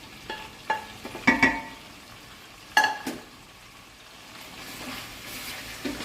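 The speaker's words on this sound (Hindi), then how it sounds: "अब इसमें हमने जो टमाटर सॉफ्ट करके रखे हुए थे हम वो ऐड" Softened tomatoes tipped into a pan of frying chicken for achar gosht, a quiet sizzle broken by a few sharp clinks and scrapes of a spoon stirring, close by, with no talking.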